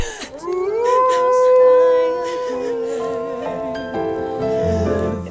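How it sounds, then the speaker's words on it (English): Torgal, the dog in Final Fantasy XVI, lets out a long, mournful howl that rises and holds before wavering down, heard loud and close over a soft orchestral backing. "the howling Torgal is so sad"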